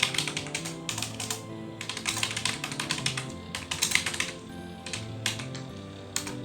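Rapid, close clicks of a computer keyboard as C++ code is typed. The keystrokes come in uneven bursts with short pauses, and no voice is heard over them.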